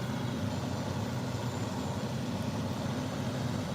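A tow truck works a car accident scene, giving off a steady low engine rumble that holds evenly throughout at moderate distance, with no voices heard.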